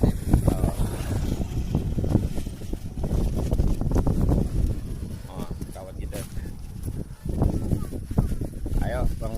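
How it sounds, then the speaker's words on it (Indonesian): Strong gusting wind buffeting the microphone outdoors during a kite-flying session with large 135 cm kites, a loud continuous rumbling roar with people talking throughout. "Angin masih kencang nih."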